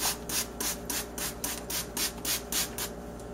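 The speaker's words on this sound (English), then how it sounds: "the only way to do that is to true it on a piece of sandpaper from time to time" A Norton flattening stone rubbed on sandpaper in steady back-and-forth strokes, about three per second, each stroke a close, even gritty rasp without voices.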